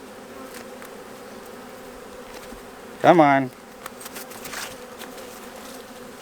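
A single honeybee buzzes loudly and close for about half a second in a sharp, agitated burst during a January hive inspection. Quiet background and a faint murmured voice come before and after it.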